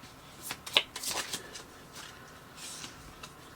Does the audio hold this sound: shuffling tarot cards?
yes